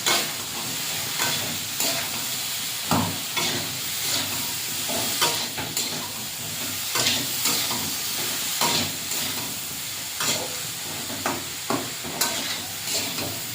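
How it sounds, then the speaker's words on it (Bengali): Shrimp and Malabar spinach curry stirred in a hot pan, salted and then loosened with the reserved boiling water; a steady hissing simmer carries regular scraping strokes of a spoon or spatula, close and continuous, with no voices. "দিয়ে নাড়াচাড়া করে ওই সেদ্ধ করা জলটা দিয়ে দেবো।"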